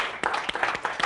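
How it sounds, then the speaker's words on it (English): A lecture audience in a systems biology course claps for a volunteer, a short burst of scattered individual hand claps at modest volume, with no talking. "So first, a big round of applause for volunteering."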